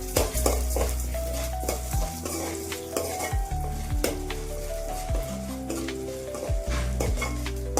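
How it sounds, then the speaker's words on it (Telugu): Urad dal frying lightly in about two teaspoons of oil in a pan, a continuous close sizzle broken by repeated scrapes and knocks of stirring, with no voices. "ఇప్పుడు ముందుగా తీసి పెట్టుకున్న మినప్పప్పు వేసుకొని లైట్గా వేయించుకున్నాము."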